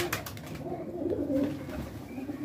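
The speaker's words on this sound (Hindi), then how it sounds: "और कबूतर देसी भी हैं इसमें" Domestic and Punjabi breed pigeons coo in low, soft murmuring calls, close by, with fluttering and faint rustling around them.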